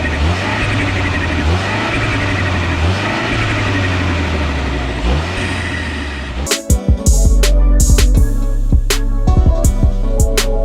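A 2022 MINI Cooper John Cooper Works GP Edition with a particulate filter idles with a throaty burble and short rising revs, then crackles and pops sharply in quick irregular bursts close by.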